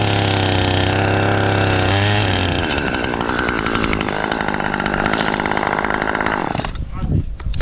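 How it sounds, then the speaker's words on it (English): A chainsaw cutting the top off a tree, its engine droning steadily and loud, then the pitch dropping and wavering as the blade bites through the wood before cutting out near the end. "He uses a chainsaw to cut the top of the tree decisively."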